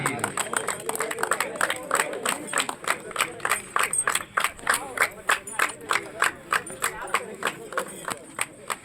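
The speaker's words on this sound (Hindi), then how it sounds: "जोरदार ताली बजाइएगा" Applause at a cricket tournament prize ceremony on an open ground: a crowd claps steadily and loudly for about nine seconds, with spectators' voices and chatter mixed in.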